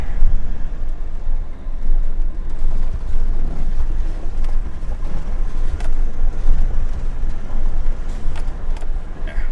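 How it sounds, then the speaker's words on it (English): A car driving along a road in a remote area, a loud continuous engine and tyre rumble with wind noise and occasional bumps, no voices. "We'll continue driving."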